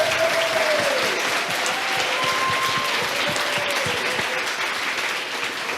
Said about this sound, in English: So let's give it an applause